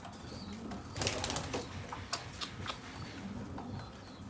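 Pigeons feeding on a balcony, with soft cooing, brief wing flaps and light pecking patter close by over a steady outdoor background.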